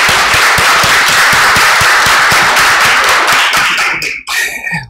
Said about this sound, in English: I want community to make a round of applause for co-chairs